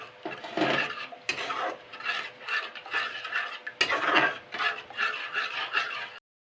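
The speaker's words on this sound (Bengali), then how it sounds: "এবার আমি কিন্তু নাড়তে নাড়তে এটা কিন্তু শুকিয়ে ফেলতে হবে।" Pumpkin bora filling with ripe tamarind is stirred in a pan until it dries out, giving continuous close scraping and rubbing of a utensil against metal in steady repeated strokes, with no talking.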